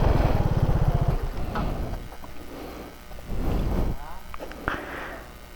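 A motorcycle engine putters and idles with a rapid, chugging pulse for about a second on a ride in Albay, Philippines, then fades under someone talking nearby.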